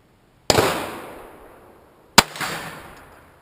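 CCI Stinger .22 rounds fired from a Ruger 22/45 pistol: two sharp, loud cracks about 1.7 seconds apart, each trailing off in a long ringing echo.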